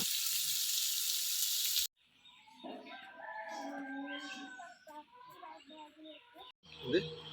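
Fish marinated in masala fries in hot oil, a loud steady sizzle that cuts off abruptly after about two seconds, followed by quieter household sounds, birds and a voice talking.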